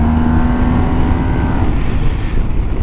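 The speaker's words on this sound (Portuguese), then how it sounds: "Este motor está com uma genica que é uma coisa incrível." A 2022 Yamaha TMAX scooter engine pulls hard under acceleration, a loud, close, droning motor note that rises and then holds with rough low rumble throughout.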